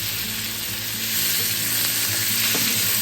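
Spring onion whites and capsicum stir-frying in a hot pan give a steady, close hiss of oil with a low hum underneath and occasional scraping stirs. No one speaks.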